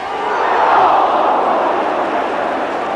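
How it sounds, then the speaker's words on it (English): A large football crowd roaring during extra time of the 1990/91 FA Cup tie between Everton and Liverpool, a dense, loud, sustained roar swelling early and holding steady throughout. "the crowd noise told you everything there"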